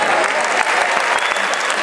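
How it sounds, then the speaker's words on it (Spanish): Loud applause from an audience at a school graduation ceremony in Acapulco, a brief, dense and steady wash of clapping from many hands. "El aplauso fuerte."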